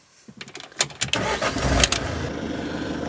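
Engine of a Possl Summit 600 Plus camper van cranking and catching, several sharp starter bursts followed by a steady, fairly loud idle close by.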